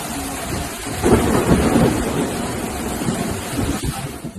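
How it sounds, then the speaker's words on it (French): Heavy rain pours steadily through a violent, very windy summer thunderstorm in Paris, with a loud roll of thunder swelling early on and rumbling on beneath the constant downpour; no one speaks. "Un orage exceptionnel a frappé Paris ce mercredi 25 juin 2025"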